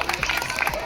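Audience applause at an award ceremony honouring local achievers, a brief dense burst of many hands clapping with crowd noise and some voices mixed in.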